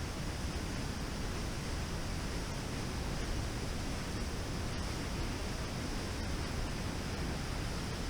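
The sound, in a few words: powerful waterfall roaring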